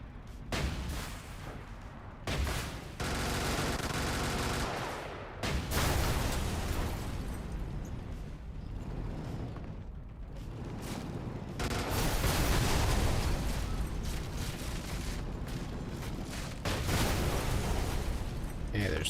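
Heavy cannon fire from a tank vehicle in the video game Brigador, a dense, loud, sustained barrage of booming blasts and bursts across the whole stretch, with dips between volleys and speech mixed underneath.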